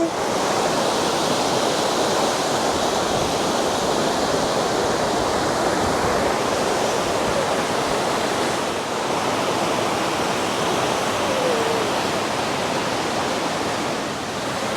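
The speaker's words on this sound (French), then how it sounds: "c'est joli la rivière" A river rushes in a constant broad wash of flowing water, loud and steady throughout with no voices.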